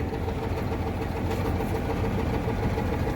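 A crane truck's engine idles with a steady, rough low rumble, close and continuous, with no voices over it.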